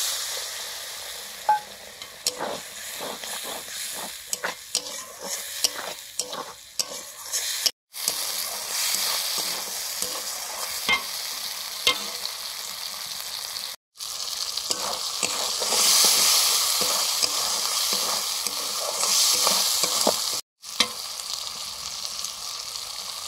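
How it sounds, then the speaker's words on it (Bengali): Spice masala with red chilli powder and a splash of water sizzles and spits in a pan while being stirred for chana masala, a close, steady crackling hiss with scraping stir strokes and a few brief silent gaps. "জল দিয়ে মশলাটা কষে নিচ্ছি।"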